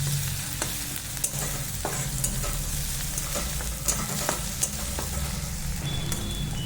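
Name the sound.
ginger garlic paste frying with sprouted moth beans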